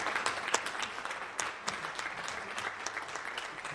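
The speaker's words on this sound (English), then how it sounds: "we give a big round of applause" Dense applause from a forum audience for the candidates, a fairly faint, continuous wash of many hands clapping with no break across the short stretch.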